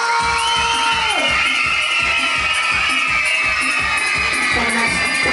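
Young five-year-old children at a school rights-of-the-child event clap in a steady rhythmic beat while shouting and cheering as a crowd, with the noise continuous and close throughout.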